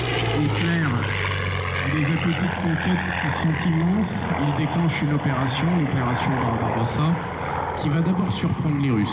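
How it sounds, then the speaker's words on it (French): Russian Yakovlev Yak-3 propeller fighter flying at an airshow, a loud continuous engine drone with wavering pitch filling the whole stretch, heard under someone narrating in French. "C'est un avion russe et pourtant le code d'hélice est tricolore."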